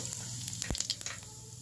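Cumin seeds crackle in a spoonful of hot oil in a kadhai, a steady close sizzle with scattered small pops and a single sharper tap near the middle.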